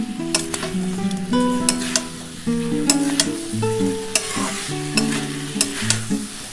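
Soybean chunks and vegetables stir-fry in a pan for a vegetarian vegetable curry, with sizzling under repeated sharp scrapes and clinks of a spatula stirring, close and busy, while faint music plays.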